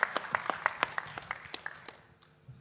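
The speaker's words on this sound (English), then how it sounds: "Give a big applause for him." Audience applause at a national seafood exports workshop: a burst of quick, scattered hand claps from a crowd, loud at first and thinning out over a couple of seconds.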